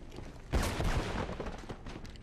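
Gunfire in the video game Mirror's Edge, a sudden burst of shots that starts sharply and then trails off into a rattling, moderately distant clatter. Nobody speaks over it.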